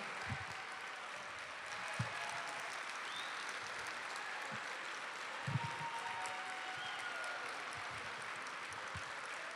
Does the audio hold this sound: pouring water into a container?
no